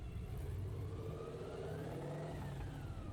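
A mid-engine car with a V8-like sound revs under throttle, producing a steady, loud intake roar with a low burble. The engine note rises slightly as it runs continuously and no one speaks.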